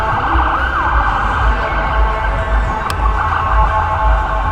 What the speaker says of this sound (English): Oh, here comes an ambulance.